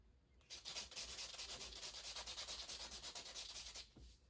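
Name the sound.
sanding with an 800 grit soft touch sanding pad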